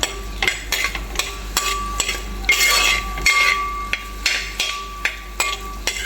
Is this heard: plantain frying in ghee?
yes